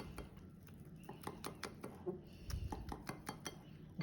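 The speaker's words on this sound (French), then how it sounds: "et là on mélange." Melted butter stirred in a bowl with a utensil, giving a quick run of close clinks and scrapes against the dish, steady and fairly quiet with no talk.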